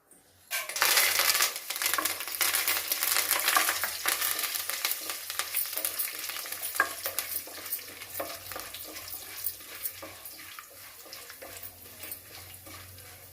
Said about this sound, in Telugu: ఇప్పుడు తాలింపు గింజలు వేస్తున్నానండి